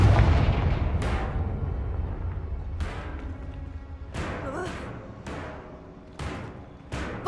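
In Hogwarts Legacy, the Confringo fire blast spell explodes several times, a series of sharp booming blasts with decaying rumbles at irregular intervals, loud and close over a dense low game rumble.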